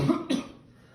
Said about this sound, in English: Oh, it's just a cough.